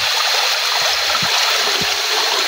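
Mountain spring water spilling over a small waterfall, a steady, close rush and trickle with a few low gurgles.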